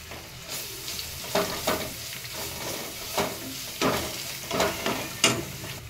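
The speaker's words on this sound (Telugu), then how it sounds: "అల్లం వెల్లుల్లి పేస్ట్ ఫ్రై అయిందండి" Ginger garlic paste sizzles and fries in a pan with onion, curry leaves and green chilli, a steady close crackle broken by repeated scraping stirs.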